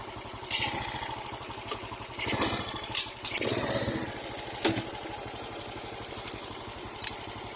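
A parked motorcycle idles nearby beside a seaside boulevard with a fast, steady low putter, joined by a few brief clatters and gusts of outdoor noise.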